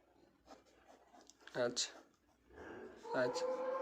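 Marker or chalk strokes scratch across a board as a ketone chemical formula is written out, short scribbling bursts under a teacher's voice speaking nearby.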